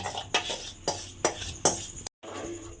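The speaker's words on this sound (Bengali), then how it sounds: "আমের কাইটা দিয়ে আমি একটু নাড়াচাড়া করে নেব।" A spoon stirs raw mango pulp in a wok, scraping and clinking against the metal in several evenly spaced strokes, fairly quiet with a brief gap near the end.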